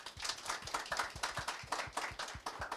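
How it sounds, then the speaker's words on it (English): A small panel audience gives applause, a thin, evenly spaced patter of hand claps at a moderate distance, fairly quiet and steady for a few seconds. "a round of applause"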